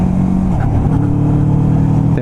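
Kawasaki Vulcan S cruiser motorcycle engine held at a steady drone, with a brief dip in pitch near the half-second mark as a clutchless quick shift is made by pressing the gear lever and easing off the throttle, then a steady rumble again.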